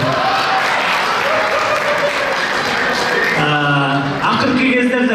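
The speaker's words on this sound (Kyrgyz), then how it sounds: "кол чаап койгойчу ушуга" Audience at a comedy roast show applauds and claps steadily throughout, a dense continuous crowd sound with some musical tones rising near the end.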